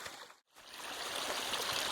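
A creek flows close to a campsite on the Ozark Highlands Trail as a steady broadband trickle and rush. It drops out briefly near the start, then holds at a constant level with no voices.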